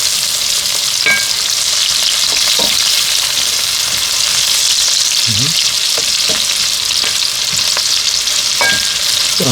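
Pork fat (salo) frying in a pan inside a Russian wood-fired stove: a steady, loud, continuous sizzle with occasional scraping stirs and clinks, no voices.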